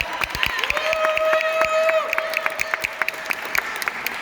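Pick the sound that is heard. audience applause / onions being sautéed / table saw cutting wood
audience applause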